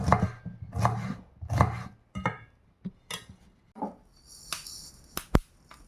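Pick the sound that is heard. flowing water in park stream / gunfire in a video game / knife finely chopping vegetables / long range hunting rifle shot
knife finely chopping vegetables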